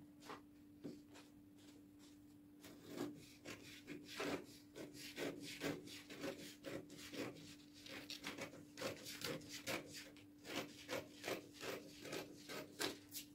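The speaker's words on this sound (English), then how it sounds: "Cut out the yoke." Scissors cut out a fabric yoke for a gathered top, making a close, quiet series of crisp snips and rustles in an irregular rhythm. There is no talking.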